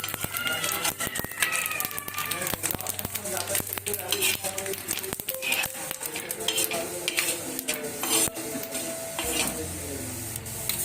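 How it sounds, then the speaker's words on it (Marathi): Poppy seeds are dry-roasted in a pan while being stirred, giving a continuous scraping and rattling of the utensil against the metal with a faint sizzle and clattering throughout, busy and close. "खसखस भाजून घ्यायची खसखस कशी लगेच भाजल्या जाते ना"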